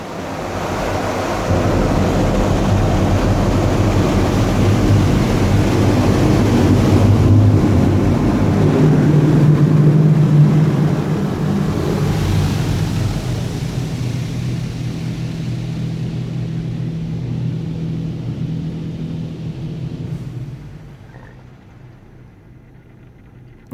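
Esso automatic car wash heard from inside the car, a loud continuous rushing roar of high-pressure water and spinning arms on the body, easing and quieting toward the end.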